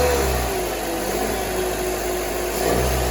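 A car engine revs up and holds under throttle while a thin, steady belt squeal whines above it, loud and close throughout with no talking.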